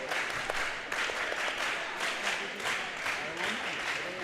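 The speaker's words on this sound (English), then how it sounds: "Frontier fans starting to clap here a little bit." Volleyball fans in a gym clap in scattered, light rhythm, fairly faint and distant, with indistinct crowd murmur in the room.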